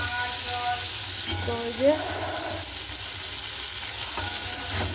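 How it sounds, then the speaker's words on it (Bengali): Bitter gourd slices frying in a small amount of oil, a steady soft sizzle running throughout with a brief stirring scrape partway through, under a few quiet spoken words. "দেখো এদিকে উচ্ছে ভাজা বসিয়ে দিয়েছি"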